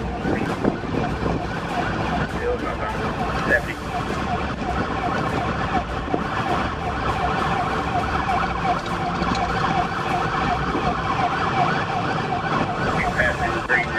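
Police car sirens wail continuously as the cars approach during a pursuit, loud and sustained over road and engine noise, with faint voices mixed underneath.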